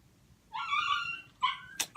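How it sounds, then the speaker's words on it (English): A dog whimpers and cries indoors in two high, wavering whines, then a short yip, fairly faint and close, with no talk over it. "that dog is always crying about something"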